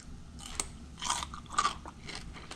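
Crisp bites into crunchy homemade refrigerator pickles, a few sharp crunches close to the mic with softer chewing between them, no talking.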